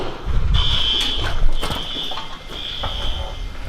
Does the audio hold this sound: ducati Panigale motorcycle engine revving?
no